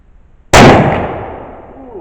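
A single sharp rifle shot from a 1942 Turkish Mauser firing soft point rounds cracks loudly outdoors, then a long echoing decay trails away over the next second and a half.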